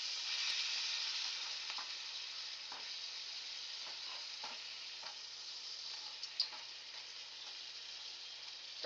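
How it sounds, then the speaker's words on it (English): Fried chicken and steak tips sizzling in a pan: a steady, fairly quiet hiss of frying that runs throughout, with a few faint stirring scrapes and clicks. "we're cooking some fried chicken, some pasta, and then we got steak tips in here"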